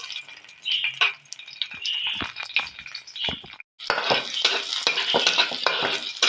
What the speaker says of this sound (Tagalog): Ipinirito ko muna sa mantika ang tinapa.